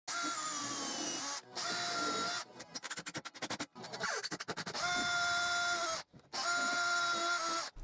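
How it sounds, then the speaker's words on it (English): A power drill whirs in several short bursts drilling pilot holes in wood, interrupted by quick stuttering pulses and brief pauses, close and fairly quiet. "After drilling some pilot holes"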